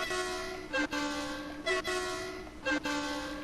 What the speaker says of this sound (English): the slightly depressing low tone